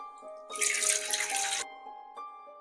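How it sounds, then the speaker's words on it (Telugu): Water drains from rinsed poha in a kitchen, a steady splashing pour lasting about a second, then a brief trickle, close and fairly loud. "వాటర్ అంతా బాగా డ్రైన్ అయిందండి"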